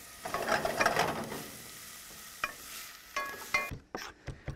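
Soft sizzling and crackling from a pan of onions frying until golden brown and soft, with a few clinks and scraping stirs near the end, no talking.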